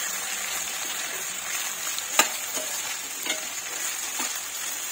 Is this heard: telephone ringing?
no